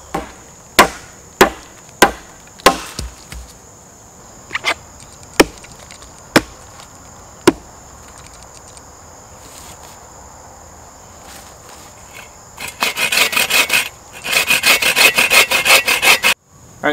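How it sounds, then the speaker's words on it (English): A wooden stick being cut and whittled into a survival slingshot: sharp, spaced knife chops and scrapes in the first half, then a dense burst of rapid rubbing cuts, with steady insect chirping outdoors behind. "Now we're going to start cutting down the excess wood on here and make it more, a nice, more firm, friendly grip to it."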